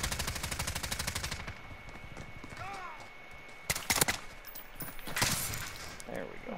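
Pistol fire in the Call of Duty Modern Warfare Gun Game mode, a few sharp shots and a short burst over a rapid rhythmic clatter, mixed with game effects and someone talking.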